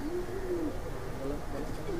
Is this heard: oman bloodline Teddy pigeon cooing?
yes